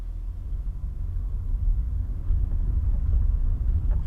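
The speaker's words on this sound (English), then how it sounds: "If you just ignore the cranky car." Heard from inside a cranky car while driving, the engine gives a low, uneven rumble that stays steady and fairly loud throughout, with no talking.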